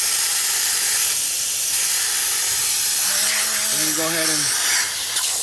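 Air hisses steadily and loudly out of a tyre valve stem, a broad continuous rush with a brief voice speaking over it partway through.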